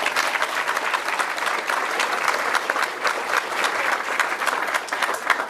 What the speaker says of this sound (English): Little applause for them